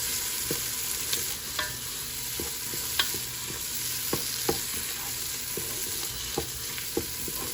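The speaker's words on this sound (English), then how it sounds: "I'm gonna leave it to fry for a little bit before adding the chicken" Oil and aromatics frying in a pan for a Moroccan-style chicken biryani give a steady close sizzle, broken by intermittent sharp clicks of stirring against the pan, with no talking.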